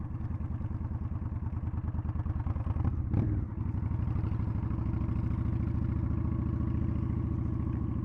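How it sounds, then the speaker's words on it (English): A Honda Shadow motorcycle rides along a desert highway, its engine producing a steady, low, rhythmic throb with a brief rustle of wind partway through, close and continuous with no speech. "Oh, and the bike sounds cool too."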